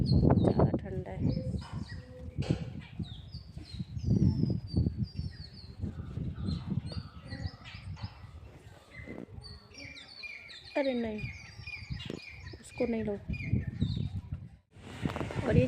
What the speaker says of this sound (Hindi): ये चिड़िया की आवाज़ कितनी प्यारी लगती है, जब ये चू चू चू चू करती है चिड़िया